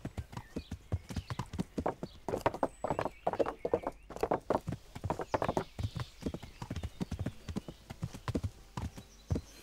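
A horse ridden at a walk through the medieval world of Kingdom Come: Deliverance, with close, steady hoof clip-clops in an even rhythm and a faint whinny partway through.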